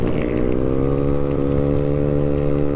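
A Honda Beat 115cc motorcycle with a loud racing exhaust roars close by, holding a sustained, rising engine note without a break.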